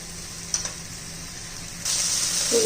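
Pieces of fish shallow-frying for a Kolhapuri fish fry over a low gas flame, a steady close sizzle that grows louder and brighter toward the end.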